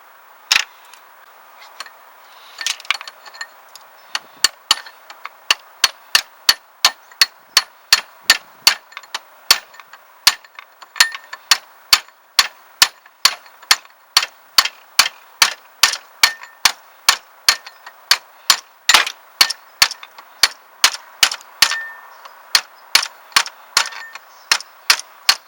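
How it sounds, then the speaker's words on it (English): Repeated metallic taps of a screwdriver's back end and a rubber mallet on a stuck A/C compressor clutch of an MK4 Jetta; sharp, evenly spaced clangs, sparse at first, then a steady rapid series of dozens of strikes, close and alone. "I'm just using the back of a screwdriver and a rubber mallet."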